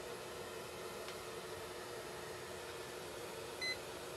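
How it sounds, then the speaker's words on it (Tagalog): A multimeter in buzzer mode is tested on the shorted primary power rails of an Asus X409JA laptop. Faint hum fills the clip, and a single short, high beep sounds near the end. "Buzzer mode tayo."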